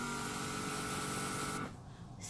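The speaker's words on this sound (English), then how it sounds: "just doing a light spray." Airbrush lightly spraying a second coat of white acrylic paint onto nails, a steady hissing spray with a faint motor hum that stops abruptly after about a second and a half, leaving near silence.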